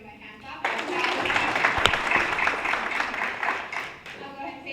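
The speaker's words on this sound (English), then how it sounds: "And you give him a hand clap." An audience at a business panel discussion breaks into applause for a panelist being introduced, a sudden, sustained burst of clapping with a single sharp clap standing out and voices mixed in.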